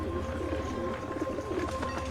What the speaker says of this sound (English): How the hell do pigeons get into a casino?